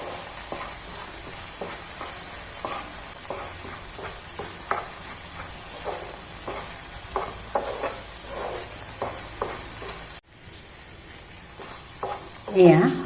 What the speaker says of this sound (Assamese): মছলাখিনি ভালদৰে ভাজি ল'ব লাগিব, কেঁচা গোন্ধটো যাব লাগিব।